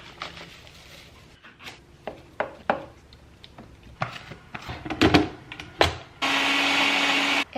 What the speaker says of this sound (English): I think I'm gonna make a smoothie